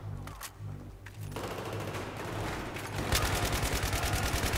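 Automatic gunfire sprays in Battlefield 3, starting with a few scattered shots, then building into a dense, loud, rapid burst of rattling fire that grows stronger toward the end.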